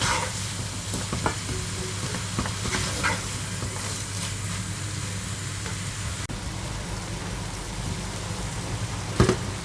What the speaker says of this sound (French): J'essaye de bien mélanger pour la tomate concentrée.